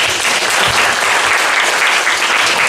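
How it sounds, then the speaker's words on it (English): An audience at a panel forum breaks into applause for a speaker, dense continuous clapping from many hands, loud and steady without pause. "round of applause for Sir Jean."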